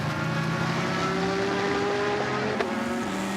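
GT race cars, among them a Mosler, run in the wet at Zolder, their engines droning in sustained tones that shift pitch as they pass, with a brief sharp accent near the end.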